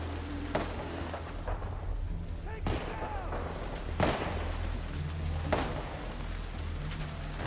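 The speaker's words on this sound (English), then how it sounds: "They shoot like crazy" Gunfire in The Last of Us Part 2 on PC: several heavy, booming shots spaced a second or so apart over a constant low rumble, with a voice talking between them.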